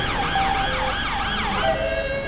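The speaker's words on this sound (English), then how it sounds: "lights and sirens are on" In GTA 5 with a British police mod, a wailing police car siren sweeps up and down in steady cycles, loud and continuous, with an engine hum underneath and no talking.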